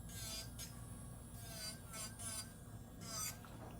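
A high-pitched electric nail drill whines in short bursts while the bit rasps and files against an acrylic nail, fairly close.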